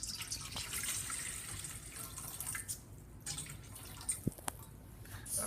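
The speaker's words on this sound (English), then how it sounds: "So we start by adding the water to the bowl." Warm water poured into a mixing bowl for Colombian arepa dough, a soft steady trickle and splash with a few sharper drips near the end, close by with no talk.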